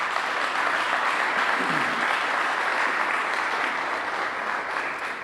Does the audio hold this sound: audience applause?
yes